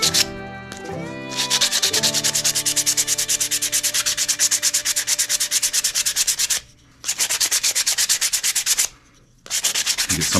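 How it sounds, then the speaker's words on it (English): An object being sanded by hand to wear down its outer finish, loud rapid rhythmic back-and-forth rasping strokes up close, pausing twice briefly before resuming. "So I could probably sand it a little bit and make it look a little"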